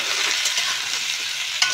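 Cut potatoes frying with browned onions for a Bengali shrimp dish, giving a steady, close, broadband sizzle with a brief stir or clatter near the end and no talk.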